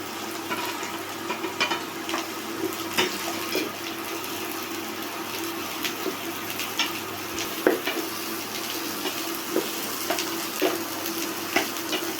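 Bitter melon and onions stir-fry in a pan, a steady close sizzle with repeated scraping and clinking of a spatula against the pan throughout, no voices.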